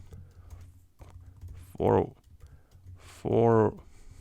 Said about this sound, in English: the microphone is in front of my keyboard, so I can't really start to type forward